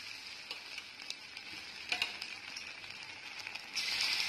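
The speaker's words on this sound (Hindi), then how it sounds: "अब स्पून के द्वारा एक एक पनीर उठा के मैं इस कढ़ाई में डाल के फ्राई कर लूंगी" Paneer cubes fry in hot oil in a kadhai with a soft, steady sizzle and occasional light ticks and pops. The frying swells louder near the end.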